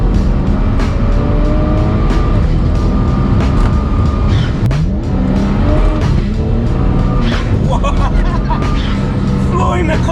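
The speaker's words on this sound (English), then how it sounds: "Flooring the car is so addictive." A BMW 135i with an N54 engine and Pure turbos accelerates at full throttle, a loud, continuous engine roar whose pitch sweeps upward through the gears, with heavy road and wind noise.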